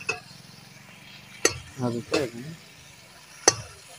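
Schezwan chutney sizzling as it is roasted and stirred in a pan, a soft frying hiss broken by a few sharp utensil clinks and scrapes, with someone speaking briefly.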